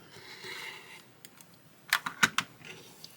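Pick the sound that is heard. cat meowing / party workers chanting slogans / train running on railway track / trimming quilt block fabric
trimming quilt block fabric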